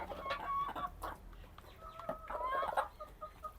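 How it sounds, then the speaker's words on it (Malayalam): Backyard chickens cluck softly in short, scattered calls, with a few higher squawks, over quiet farmyard ambience with no speech. "നല്ല പാവം കോഴികളാണ് അവർ."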